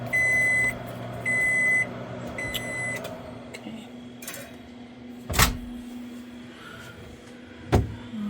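A microwave oven gives two long electronic beeps followed by a third, then quieter rattling and a couple of sharp clicks against a low appliance hum, while caramel is made.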